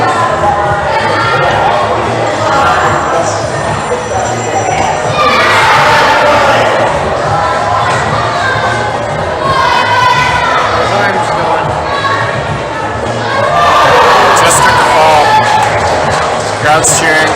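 A crowd at a provincial top rope climbing competition roars and cheers loudly and continuously, rising into a bigger surge near the end, with shouts and a commentator's voice mixed in.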